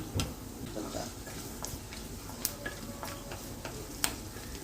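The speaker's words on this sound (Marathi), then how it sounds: "पाव चमचा मोहरी टाकून घेते आणि लगेचच मी खडे मसाले टाकून देते" Mustard seeds and whole spices (cardamom, a piece of cinnamon, star anise) sizzle steadily in hot oil, a soft continuous frying hiss with faint scattered pops and small clicks, close and alone without talk.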